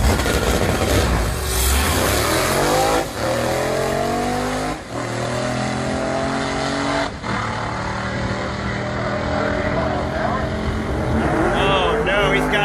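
A supercharged 546 cubic inch drag racing car roars loudly through repeated rising, revving engine runs with brief gear-change dips, close and dominant throughout the drag-strip pass.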